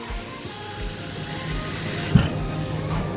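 A kitchen tap runs steadily into a glass, giving a continuous close hiss of flowing water as it fills. A brief knock sounds partway through.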